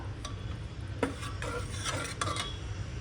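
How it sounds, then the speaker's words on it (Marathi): Cooked colocasia leaf bhaji, just out of a pressure cooker, being whisked in a pot: several quick scraping, clinking strokes of the utensil against metal, close and moderately loud over a low steady hum. "आता आपण ही भाजी फेटून घेऊया जरा"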